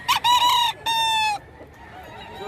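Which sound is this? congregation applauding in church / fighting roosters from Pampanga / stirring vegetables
fighting roosters from Pampanga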